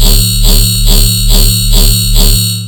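A heavily distorted metallic riddim bass synth pulses in a steady wobbling rhythm. The loud, gritty tone swells and falls about five times, alone.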